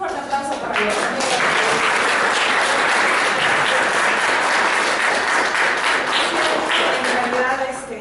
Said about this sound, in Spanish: un fuerte aplauso para los amigos.